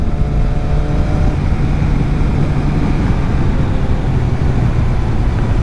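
Road traffic and engine noise roar loudly and continuously from a ride on a Kawasaki ZX7R motorcycle cruising in third gear, a steady low rumble with wind, and no talking.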